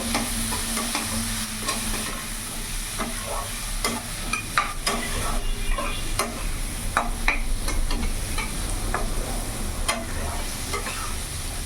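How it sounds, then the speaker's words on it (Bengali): Bata fish seasoned with turmeric and a little chili powder frying in oil over a medium gas flame, with a steady close sizzle and repeated stirring scrapes throughout, no voices. "একটু ভাজা ভাজা করে নেবো।"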